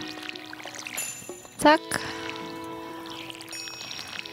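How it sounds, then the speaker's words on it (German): A watering can pours water over crop fields in Stardew Valley with one short splashing pour. Soft game music tones play throughout, and someone talks briefly in German. "Und dann gießen wir einmal unsere Felder."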